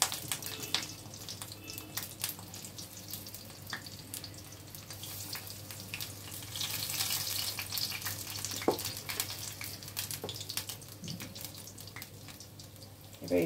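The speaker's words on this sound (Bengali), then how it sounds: "আর এটা সর্ষের তেলে আমি এটা ভাজছি।" Stuffed pumpkin-leaf rolls fry in mustard oil in a pan over a gas stove, giving a soft, steady sizzle and crackle throughout, with occasional light clicks and no talking.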